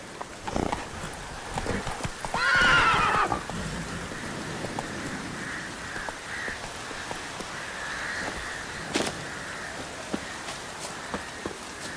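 Roach, Geralt's horse in The Witcher 3: Wild Hunt, gives a short neigh near the start amid soft hoof clops and a steady patter of rain, with scattered faint taps continuing afterward.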